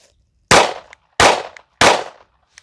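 Three loud, sharp gunshots fired into 3/4 inch thick plywood, evenly spaced less than a second apart, each with a brief decaying tail and silence between.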